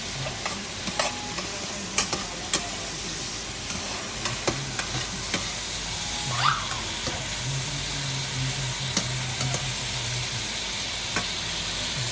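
Leftover shrimp frying in a pan alongside galunggong fish, a steady close sizzle punctuated by scattered clicks and scrapes of stirring.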